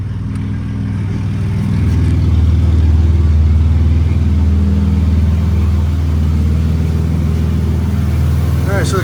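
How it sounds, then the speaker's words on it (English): Close, loud, steady mechanical rumble and hum from the running engine bay of a 2000 Chevy Camaro, where the AC compressor is suspected of making noise. Someone talks over it. "Alright, so the compressor might be making noise."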